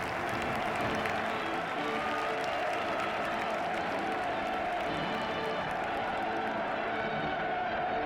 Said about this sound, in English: The others follow in alphabetical order, with the French receiving the biggest applause.